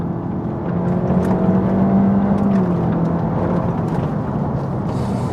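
A 2022 Honda Civic Hatchback Sport Touring with a CVT launches hard in sport mode, its engine drone climbing and holding at high revs, loud and close, with a brief tire scrabble and no talk.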